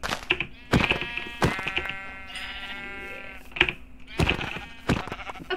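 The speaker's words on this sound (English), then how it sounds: "Okay, so we're killing sheep to get wool." Several short bleats from sheep in a blocky Minecraft world running the Industrial Craft mod, spaced irregularly and loud and close, with no talk over them.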